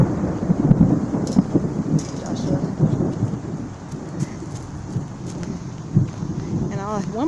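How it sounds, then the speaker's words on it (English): A garden thunderstorm in June brings steady rain and low rumbling thunder with occasional sharper cracks, continuous and fairly loud, with a voice briefly calling out over it. "we got a thunderstorm coming"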